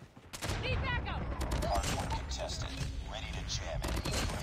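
Rapid gunfire from hip-firing a weapon in a Call of Duty Mobile Hardpoint match, in dense, loud bursts with game effects, while voices talk over it.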